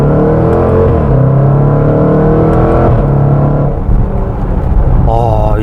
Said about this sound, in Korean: 지금같이 초록불이 됐는데 아주 살짝만 가속 페달을 밟아도